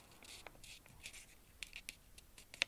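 Paper being creased and folded into an origami fish, giving soft scratchy rustles and a few sharper crinkles, quiet and close.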